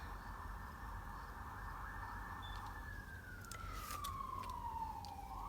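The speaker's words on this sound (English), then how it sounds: "I can't believe how many sirens there are today." A single emergency siren wails steadily outdoors, holding a long tone before sliding downward in pitch, with faint traffic rumble beneath and a few brief sharp noises near the end.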